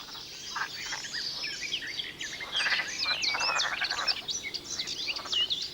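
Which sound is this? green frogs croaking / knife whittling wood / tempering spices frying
green frogs croaking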